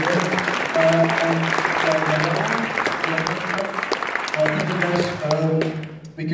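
Audience clapping for a presenter at a talk, a moderate steady patter of applause heard alongside a sustained tonal hum, fading out near the end.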